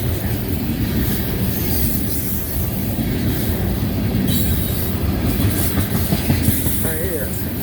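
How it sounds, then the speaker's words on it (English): A heavy freight train hauling white tank cars of molten sulfur rolls steadily past close by, a continuous loud rumble with wheels squealing briefly near the end and a voice speaking faintly over it. "Heavy train, molten sulfur is what we got right here."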